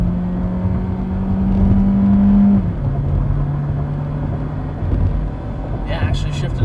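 A 1996 Toyota Caldina 2.0 TZ 4WD accelerates in power mode, its engine droning steadily from inside the car, shifting down in pitch after a gear change around the midpoint, with a person talking over it.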